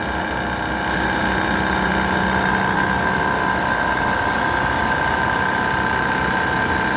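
A machine tool cuts a chamfer on a metal part as a lead-in for a pilot, giving a loud, steady whirring hum with a constant tonal whine and no pauses.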